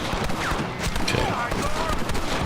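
Sniper rifle shots in Red Dead Redemption on PS5, a rapid cluster of loud cracks over a busy gunfight backdrop with scattered voices.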